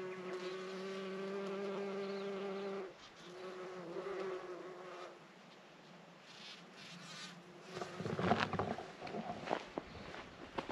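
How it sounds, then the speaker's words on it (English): Bumblebees buzz around flowering Hebe shrubs on a mountainside, a steady droning hum that later grows rougher and louder as a bee passes close, with no talking. "Look at all the bumblebees."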